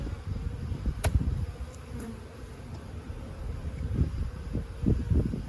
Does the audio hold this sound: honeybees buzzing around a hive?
yes